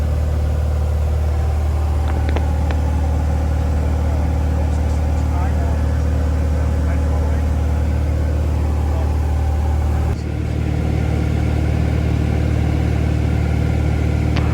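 A Cessna single-engine aircraft hums and drones steadily in flight, loud and close from inside the cabin, with a brief dip in tone near the end and radio talk over the engine.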